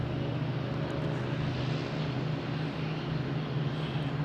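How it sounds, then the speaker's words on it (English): A JetBlue airliner taking off at Boston Logan, a steady, broad engine roar heard from a distance, alone and unbroken. "Here's JetBlue taking off"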